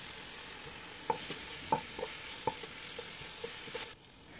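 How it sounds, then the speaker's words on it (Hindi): Ginger garlic paste fries in a pan with a faint, steady sizzle, punctuated by several soft clinks of a utensil stirring before the sound drops away. "इन दोनों को पकाने की थोड़ी देर के बाद हम यहाँ पर ऐड करेंगे जिंजर गार्लिक पेस्ट,"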